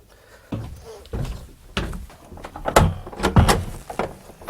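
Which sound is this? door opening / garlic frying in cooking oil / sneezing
door opening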